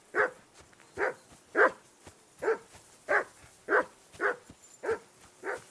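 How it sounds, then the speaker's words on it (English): In the medieval video game Kingdom Come Deliverance 2, a dog barks in a steady, evenly spaced series of nine loud barks at moderate distance, with no voices between them. "I assume you can hear that damn dog of yours barking."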